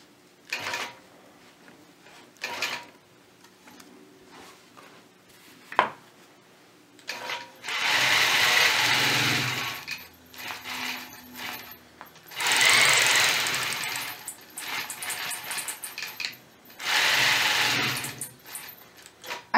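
A sewing machine stitches straight quilting lines along a scalloped border, running in several loud sustained bursts of rapid needle chatter separated by quiet pauses and clicks.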